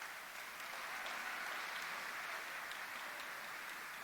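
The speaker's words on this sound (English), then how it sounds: "Let's give John Myers a round of applause" Steady, sustained applause from an audience at a 2023 Lantern Award fundraising event, a dense even wash of clapping heard from some distance, fairly quiet, with no talking over it.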